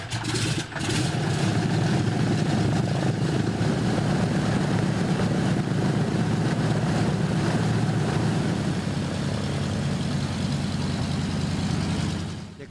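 A vintage Douglas Dakota propeller airplane gives a loud, steady engine drone with low rumble and broad roar that fills the whole stretch without pause, and no voices are heard.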